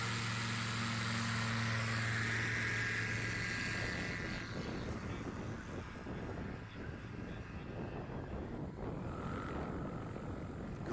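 A small red, white and blue STOL airplane takes off at an airport during STOL competition practice, its loud propeller engine roaring close by and steadily throughout, with a broad, droning tone that shifts slightly as it climbs away.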